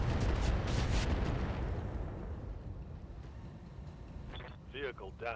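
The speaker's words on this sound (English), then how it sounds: "Firing. All weapons." Mech weapons firing all at once in the RogueTech video game, a loud sustained barrage of booming blasts that slowly fades, with game radio voices chiming in near the end.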